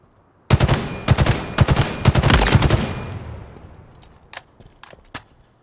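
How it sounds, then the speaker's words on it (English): A BR battle rifle in Halo Infinite fires loud, sharp bursts in quick succession, with several rapid volleys close together. A trailing echo follows, and a few fainter scattered shots come after. "listen to this BR pop"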